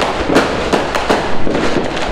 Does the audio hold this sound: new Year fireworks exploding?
yes